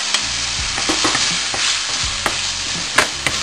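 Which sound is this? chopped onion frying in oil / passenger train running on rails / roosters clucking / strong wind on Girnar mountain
chopped onion frying in oil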